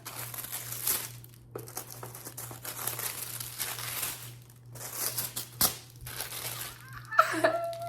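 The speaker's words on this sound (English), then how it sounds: "We're going to go ahead and unwrap it." Packaging around a pair of Christian Louboutin Kate 100mm heels crinkles and rustles as it is unwrapped, in soft, close bursts with brief pauses.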